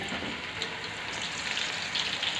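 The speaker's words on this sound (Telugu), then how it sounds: "ఇలా ఆయిల్లో కాకరకాయ ముక్కల్ని ఫ్రై చేసుకుందాం" White bitter gourd pieces frying in oil in a kadai, a dense continuous sizzle that stays loud and even from start to finish, close and with no voices.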